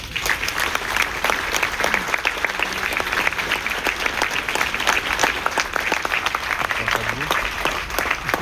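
Sustained applause from a large audience, dense and even throughout with crisp individual claps, fairly loud and close.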